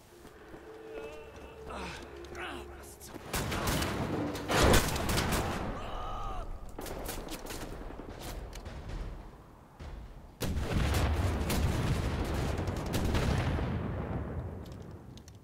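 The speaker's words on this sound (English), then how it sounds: "Assault rifle." Assault rifle gunfire in the video game Wolfenstein comes in sustained, dense rattling bursts with heavy booming impacts, a continuous chaotic barrage that pauses briefly and then resumes.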